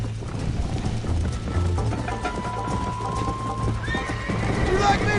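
A horse in Red Dead Redemption gallops with steady, loud clip-clopping hooves, then neighs sharply near the end, with a voice talking over the hoofbeats.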